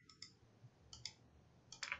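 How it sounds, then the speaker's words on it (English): Keyboard arrow keys are tapped while nudging a design in CNC sign software, giving a few sparse, quiet clicks, single and doubled, close in a hushed room. "you can use the arrow keys on the keyboard"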